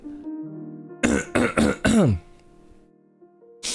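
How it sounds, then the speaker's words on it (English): One person clears phlegm from their throat in four quick, rough bursts at close range. The last burst is the longest, and a short fifth one comes after a pause. "I'm gonna be clearing my throat a lot"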